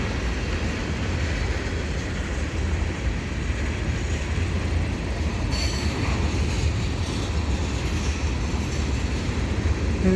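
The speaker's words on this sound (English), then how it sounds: "These CSX trains, they now have a section of intermodal." A CSX freight train with intermodal cars rolls past close by on CN tracks at Marshall Avenue, with a continuous loud rumble and clatter of wheels and a brief metallic squeal partway through.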